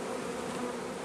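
Honeybees buzz at an open hive, a brief, dense, steady hum close to the microphone with no voices.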